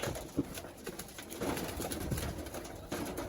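Pigeons coo softly and repeatedly close by, low throaty calls spaced through a quiet, slightly noisy background.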